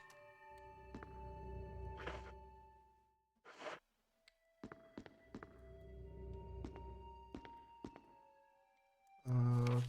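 A weapon is reloaded in the Resident Evil REmake, with sharp metallic clicks and thunks spaced unevenly across a quiet room, shotgun shells being handled; faint and close, with a louder clunk at the very end.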